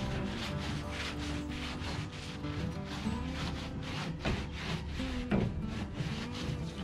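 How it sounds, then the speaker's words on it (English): A shop towel wipes down a Traeger pellet grill, giving a steady, close rubbing and scrubbing sound with rhythmic strokes and a few louder scrapes, heard alone. "I just give it a good wipe."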